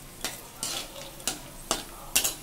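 Peanuts frying with salt and a dried red chili, stirred in a pan: a steady low sizzle broken by five sharp scraping strokes of the spoon at a slow, even rhythm, close and moderately loud.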